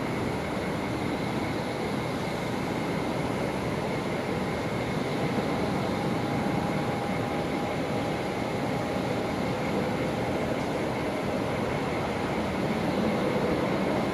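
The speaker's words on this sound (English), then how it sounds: "so that was the Jetstar 321 Neo there that just pushed back" Jetstar Airbus A321neo taxiing at Brisbane Airport at night, a steady, dense engine roar with a faint high whine holding evenly throughout, no voices.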